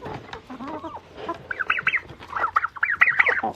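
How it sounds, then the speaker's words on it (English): Clucking from a blue-laced red Wyandotte hen and the free-ranging flock in wet weather, starting as low murmurs and building into a run of louder, quick, close calls. "Oh, there is our chicken right there, the blue-laced red Wyandotte in the back."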